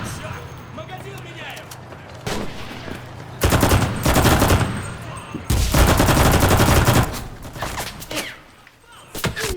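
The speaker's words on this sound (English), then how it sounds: "to mow them down with these very overpowered Russian submachine guns" Rapid bursts of Russian submachine gun fire in the shooter game Enlisted, with several loud automatic volleys separated by quieter gaps and a voice talking over the action.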